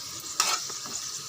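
Spoon stirring mashed lentils and carrot in a pot, a brief close scrape and clatter over a faint constant sizzle of cooking.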